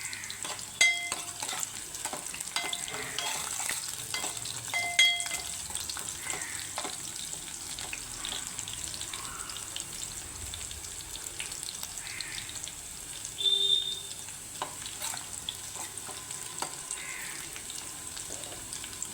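Garlic frying in a pan for a lentil and eggplant curry, a steady close sizzle running throughout with brief stirring scrapes and clinks scattered over it, no voices.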